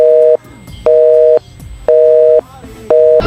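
A telephone busy signal sounds as four loud, steady tone bursts, each about half a second long, with equal gaps between them. Faint background noise fills the pauses.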